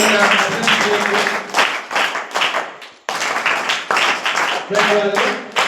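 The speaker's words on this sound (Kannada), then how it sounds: "ಜೋರಾದ ಚಪ್ಪಾಳೆ" An audience applauds loudly at a Kannada Rajyotsava cultural function in Gadag. The clapping comes in several bursts that rise and fade, with brief breaks between them.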